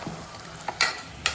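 Chicken curry being stirred in a pan while it sizzles, with a few short scraping clinks of a spoon against the metal standing out over a quiet frying hiss.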